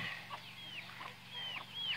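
A hen clucks softly among her chicks and guinea fowl, with repeated high chirps and peeps over a low steady background hum, fairly close and continuous.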